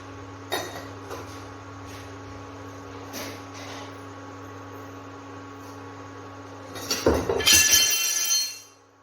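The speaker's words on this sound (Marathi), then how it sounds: "दूध तापताना असा चमचा ठेवायचा आतमध्ये म्हणजे आपलं दूध उतू जाणार नाही" A metal spoon clinks and rattles against a pot of milk heating on a low gas flame, with a few faint taps early on and then a louder burst of rapid clinking near the end.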